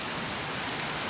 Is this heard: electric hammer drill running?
no